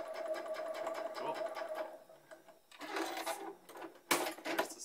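A sewing machine hems the bottom of a long sleeve, running in steady bursts with brief pauses and a sharp clack near the end, moderately faint with some background voice.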